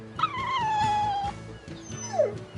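A dog in the video game Tales of Berseria whimpers and yelps in a long rising-then-falling whine, followed by a second sliding cry, heard alongside low background game music.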